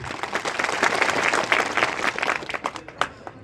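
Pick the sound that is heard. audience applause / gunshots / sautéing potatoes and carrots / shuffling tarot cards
audience applause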